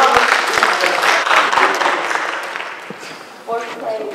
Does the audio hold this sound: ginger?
no